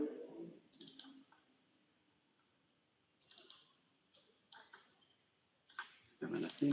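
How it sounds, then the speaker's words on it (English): Mouse clicks on a computer while navigating a photo viewer in Trimble Stratus software, several short soft clicks in small clusters under a quiet room tone, with a louder burst at the end. "double click, I believe"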